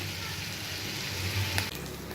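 Spices and onion sizzling in hot oil for a lote fish curry give a soft, steady frying hiss throughout, fairly quiet and with no talk over it.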